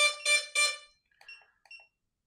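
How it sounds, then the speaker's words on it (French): DJI Avata 2 drone sounds its locator alert: three loud, evenly spaced electronic beeps up close, followed by a few faint, short tonal chirps trailing off. "quand je le cherche dans l'herbe ou quoi que ce soit, le drone bip, comme vous venez de l'entendre"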